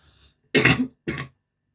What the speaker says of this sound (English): I always seem to cough when I'm doing my videos.